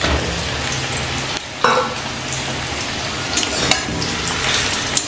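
Potatoes and chunks of ridge gourd sizzle steadily in hot oil in a pan, a loud continuous crackle broken by occasional scraping knocks of a spatula as they are stirred.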